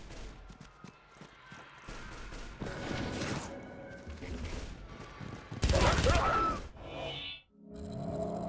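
Short range guns fire in bursts of rapid, loud gunshots in Avatar: The Game, with a heavy blast near the end and brief quieter gaps between volleys.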